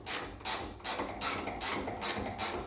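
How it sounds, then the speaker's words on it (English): A wrench spins the nut off a Ford Raptor front sway bar end link while the link is held in place, giving about seven evenly spaced raspy ratcheting bursts, close and fairly quiet. "You just hold the sway bar end link in place and spin the nut off."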